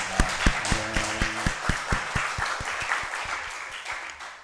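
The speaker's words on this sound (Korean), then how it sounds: "우리 살아계신 하나님께 찬양과 감사와 영광의 박수 올려드리겠습니다" Church congregation applauding during a worship service, a burst of rhythmic clapping from many hands that gradually thins into looser, softer applause.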